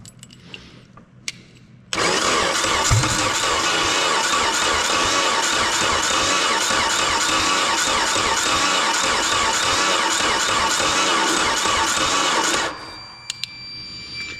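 A Mercruiser 3.0 marine engine cranks over for about ten seconds in one continuous, loud, close whirring drone, then stops abruptly.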